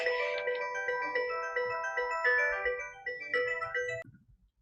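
A phone ringtone plays a bright electronic melody of repeated tonal notes, moderately loud, then cuts off abruptly after about four seconds; no speech.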